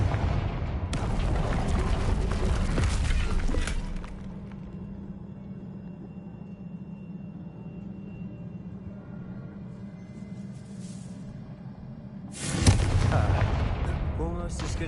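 Confringo blasting spells explode in Hogwarts Legacy: a loud, dense booming burst opens the clip, a quieter low rumble follows, then a second sharp blast hits near the end.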